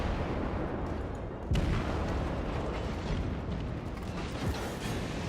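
Naval gunfire exchange between warships in World of Warships, a dense rumbling mix of heavy booms and mechanical clatter with one sharp blast standing out, continuous and loud throughout.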